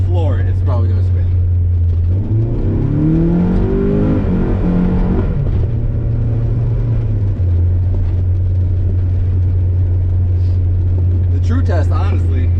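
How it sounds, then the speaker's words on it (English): A Mazda MX-5 Miata accelerates hard in third gear on a snowy winter road. The engine drones loudly and rises in pitch as it revs, then settles into a steady rumble, with a voice speaking over it at the start and end. "I'm in third gear, and I'll floor it. It's probably going to spin."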